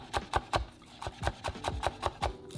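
A knife chops green onions finely on a board: about a dozen crisp, evenly spaced taps, close and clear, in a steady quick rhythm.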